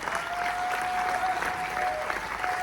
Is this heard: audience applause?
yes